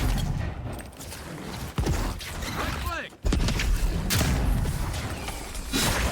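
Gunfire in the video game Avowed: several sharp shots rattle out amid a busy, dense mix of game effects and creaks, fairly loud and close, with a voice occasionally heard talking.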